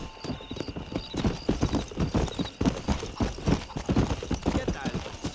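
A horse's hooves clop in a fast, steady galloping rhythm in the Red Dead Redemption video game, loud and continuous throughout, with a whinny-like tone faintly mixed in.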